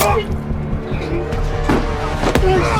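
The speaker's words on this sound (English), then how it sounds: "a car approached, and its lights shone on Kim and Hyung" A car approaches and strikes a man in a movie scene, heard as close vehicle engine and tire noise with sharp impact-like bursts over a busy soundtrack, with voices present.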